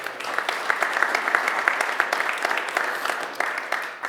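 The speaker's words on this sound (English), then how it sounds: "Let's give them a round of applause." An audience at a city hall talk gives a round of applause, dense steady clapping from many hands filling the room at moderate volume for several seconds.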